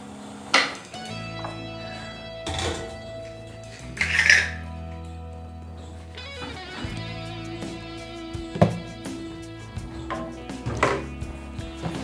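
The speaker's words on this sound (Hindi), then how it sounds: "इससे फटाफट बर्तन साफ हो जाएंगे।" Dishes clatter and clink in a kitchen sink, with scattered sharp knocks of pots and utensils against each other, fairly close, no talking.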